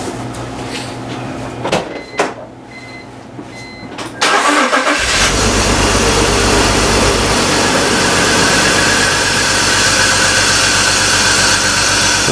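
A 2004 BMW 325xi engine under a compression test cranks and catches, then runs loud and steady close by after a few clunks and quiet moments, with no talk.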